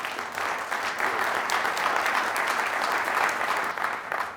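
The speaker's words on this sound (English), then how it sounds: "Let's give them a round of applause." A debate audience at a Denver mayoral runoff applauds with steady, dense clapping that holds evenly from start to finish, a full crowd sound with no talk over it.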